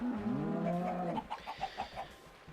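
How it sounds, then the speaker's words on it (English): Minecraft cows moo in a low, drawn-out bovine call, followed by a quick series of short rhythmic blips from the game, all fairly quiet and heard without any talking. "now let's get these cows"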